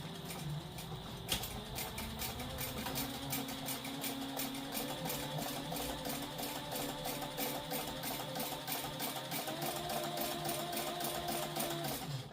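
Sewing machine stitching steadily around the full edge of a fabric satchel bag, a continuous fast mechanical whir with rhythmic needle clatter, close and alone throughout.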